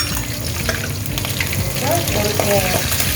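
Cinnamon, cloves, cardamom, curry leaves and green chili sizzle loudly in hot oil for a chicken onion gravy, a close, steady crackling frying hiss with a few stirring clatters and no talk.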